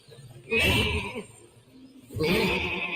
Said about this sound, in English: Oh, these are boxes of sheep.